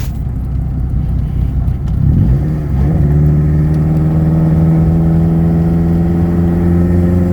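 Honda CRX with a ZC block and D16Z6 head, naturally aspirated, revving hard through an acceleration pull, its engine note rising steadily and loud from inside the car with no talk.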